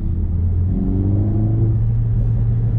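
A 2020 Mercedes A45S AMG's engine and exhaust give a loud, steady drone with a deep rumble and rising tonal harmonics, heard alone for under three seconds.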